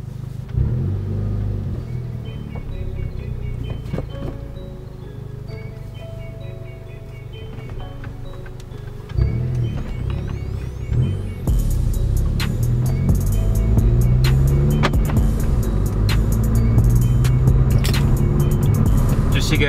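A car engine revs up toward its 6,000 RPM redline, a steady low rumble that swells and climbs in pitch partway through, staying loud and close to the end.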